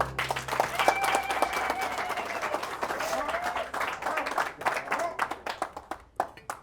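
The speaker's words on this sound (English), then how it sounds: "Please join me in giving the bride and the groom, a warm round of applause." A wedding audience claps for the bride and groom, steady applause with a few voices and cheers mixed in, thinning into scattered individual claps near the end.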